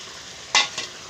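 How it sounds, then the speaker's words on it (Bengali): Eggs go into a boiling egg curry gravy with oil floating on top, giving a short close splash and sizzle followed by a smaller second one, then quiet. "গ্রেভিটাকে খুব ভালো করে ফুটিয়ে নিয়েছি, তেলগুলো সাইডে ভেসে উঠেছে। এর মধ্যে দিয়ে দেবো ডিমগুলো।"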